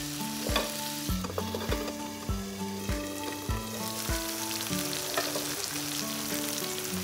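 Scrambled egg frying in a pan with a steady sizzle, broken by regular scraping strokes of a spatula stirring it, close and fairly loud, no voices.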